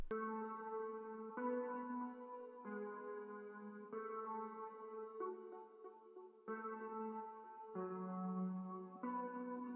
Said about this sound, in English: Secondly, I use like this wah guitar,